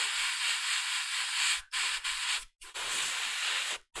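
An airbrush sprays paint onto a miniature figure in steady hissing bursts, stopping briefly a few times before resuming, close and continuous between pauses.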